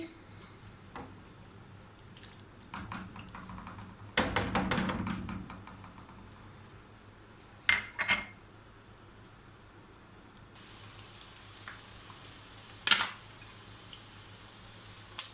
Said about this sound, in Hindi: आधा कप मैंने डाला है ऑयल। अभी मैं प्याज डालूंगी।